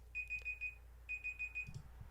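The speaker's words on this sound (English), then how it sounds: "There's our nice little timer." An electronic timer alarm beeps in two bursts of four rapid high-pitched beeps, clear and moderately loud over a low background hum, with no talking.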